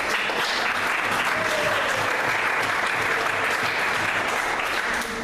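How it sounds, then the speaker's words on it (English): Audience applause fills a general meeting of an American Legion district in Florida, a steady, dense clapping from a room full of people sustained at even loudness throughout, with no speech over it. "you people can clap."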